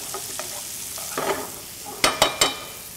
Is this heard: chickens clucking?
no